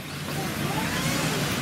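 A TLR 1/8 scale off-road RC racing car runs at a 1/8 off-road race event, giving a steady, loud engine drone with no break throughout.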